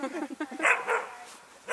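A dog barks in short bursts somewhere outdoors, with people talking over and between the yaps, and a louder bark cluster near the end.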